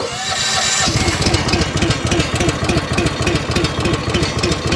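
A commercial log splitter's engine started from cold on full choke: a short crank, then it catches and runs loud and close with a rough, rapidly pulsing idle that holds steady.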